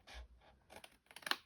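Scissors trim paper for a no-glue gift box in a quiet, close series of short snips and crisp rustles, the cuts getting quicker and sharper toward the end.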